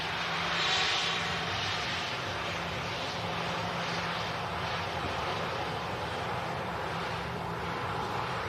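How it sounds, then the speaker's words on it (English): A Ryanair Boeing 737-800 bound for Dublin on its departure roll, heard as a steady, broad jet engine roar with wind noise, holding at an even level throughout without voices. "Departure roll. Yeah, that's Ryanair 737-800 heading off to Dublin."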